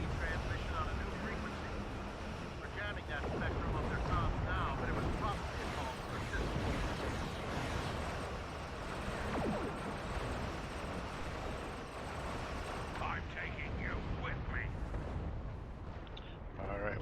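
A Gatling emitter cannon fires in Star Trek Online, producing a dense, rumbling barrage of rapid blasts and explosions that runs almost without pause, with a voice talking over it at times.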